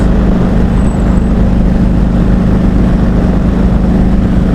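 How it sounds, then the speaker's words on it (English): A motorcycle engine runs steadily at cruising speed, a loud continuous low rumble with wind noise that holds even throughout and never pauses. "The bike sounds good, running good, handlebars are tight, we cruising."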